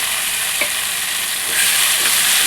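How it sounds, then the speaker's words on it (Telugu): Onions and curry leaves frying in a pan with chopped tomatoes being added for a mushroom egg curry, a steady close sizzle with brief stirring scrapes throughout and no talking. "ఆనియన్స్ని ఇలా బాగా డ్రై అయిన తర్వాత ముందుగా కట్ చేసుకున్న టమాటాలని వేసుకోండి"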